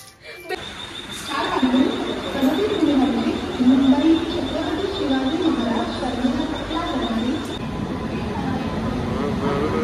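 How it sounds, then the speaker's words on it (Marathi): Train journey under way during a Ganesh Chaturthi trip to Kokan: a steady rolling rumble and carriage noise fill the whole stretch, with passengers chattering and talking over it. "ट्रेन भेटलेली आहे आणि सफर सुरू झालेला आहे"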